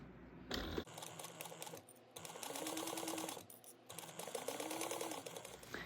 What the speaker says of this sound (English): And then you can go ahead and baste this on at 1/8 of an inch.